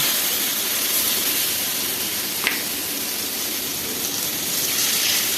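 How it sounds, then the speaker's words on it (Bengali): Batter of wheat flour and semolina hisses steadily in hot oil, a broad close frying sizzle with a faint splash midway, no voices. "এবার এই গরম তেলে আমি এই ব্যাটারটা এইভাবে দিয়ে দেব"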